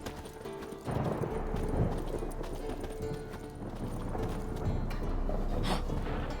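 Horse hooves clip-clop steadily on the ground in The Witcher 3 video game, a close, continuous rhythm of hoofbeats that picks up after the first second and carries on to the end.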